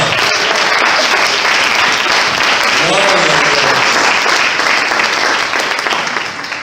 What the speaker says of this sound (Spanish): ¿Por qué no dan un aplauso a Jesucristo? A ver, denle un aplauso al Señor.